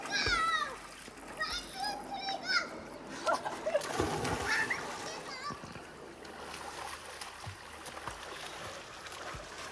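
A person dives into a cold outdoor swimming pool, leaving a splash and churning water under excited chatter and children's voices nearby.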